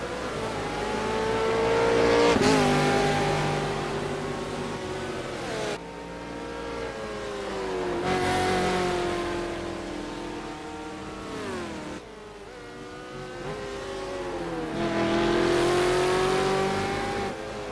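V8 Supercars Ford Falcon racing engine in Project CARS on the Nordschleife, loud and close, revving up through third and fourth gear with sharp pitch drops at each shift, then back down to third, continuous with no talk.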